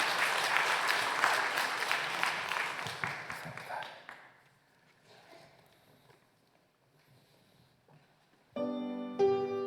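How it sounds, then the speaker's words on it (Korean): A congregation at a Sunday church service breaks into loud applause that fades out after about four seconds, leaving a quiet room before organ-like music and singing swell in near the end. "박수로 우리"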